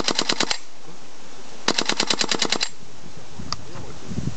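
A WE SCAR-L gas blowback airsoft rifle fires two fully automatic bursts, a short one of about six rapid sharp clacks and a longer one of about ten, close and loud, with a faint click and quiet handling noise afterward.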